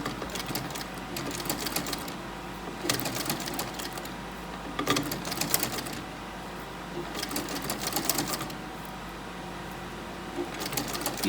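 Sewing machine stitching an invisible zip in short start-stop bursts, four or five runs of rapid mechanical chatter with pauses of quieter hum between them, close and fairly loud, no talking.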